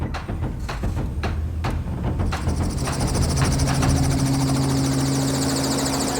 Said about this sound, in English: Here goes the chopper